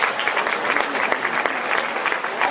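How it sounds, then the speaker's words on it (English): A crowd at a city inauguration ceremony applauds the city attorney, with broad, sustained clapping and sharp individual claps standing out across the whole stretch. "Another round of applause for the city attorney."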